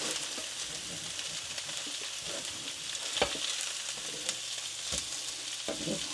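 Salmon searing in a pan with steady, close frying sizzle throughout, a few sharper crackles and pops standing out, no talking.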